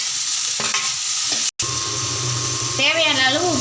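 Tomatoes drop into hot oil with fried onions and green chillies and sizzle, a steady close hiss broken by a brief cut, while a voice talks over the frying.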